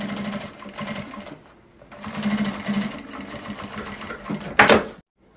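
A domestic sewing machine stitches a fabric car trash bag in several short bursts of rapid mechanical clatter with brief pauses, close and moderately loud, ending in a sharp clunk.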